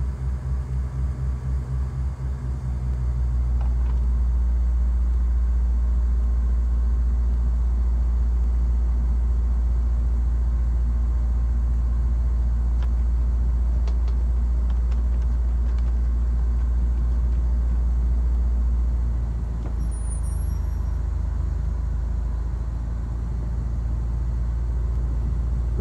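A small aircraft's engine at full throttle, 2,600 RPM max, drones as a steady, loud, low rumble through the cockpit during the takeoff roll, with a slight shift in tone near the end.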